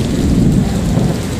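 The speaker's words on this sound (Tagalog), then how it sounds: "Hindi pa rin tumitila yung ulan." Heavy rain pours steadily during Typhoon Enteng, a dense loud rumbling wash with low thunder-like roar underneath, continuous and close with no voices.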